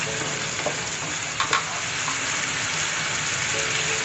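Cauliflower frying in hot spiced oil in a home kitchen pan, a steady broadband sizzle running throughout with a couple of brief clatters near the middle, no voices.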